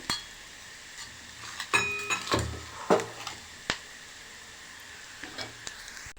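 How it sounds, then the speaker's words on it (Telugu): Quiet frying sizzle of pounded raw mango chutney browning in a pan, with scattered clinks and scrapes of stirring, a few sharper utensil knocks standing out. "బ్రౌన్ కలర్ వచ్చేంత వరకు వేపుకోవాలి"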